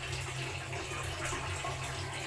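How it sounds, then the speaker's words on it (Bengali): Hot water poured steadily into coffee in a home kitchen, a continuous close rushing splash with no voices. "এখন এখানে গরম জলটা দিয়ে দিব।"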